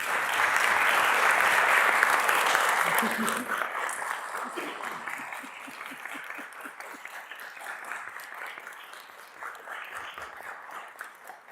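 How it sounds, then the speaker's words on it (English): Council chamber audience applauds a retiring committee member: strong, full clapping at first, then thinning into scattered claps, with voices and a chuckle mixed in as it fades. "A well-deserved round of applause for sure."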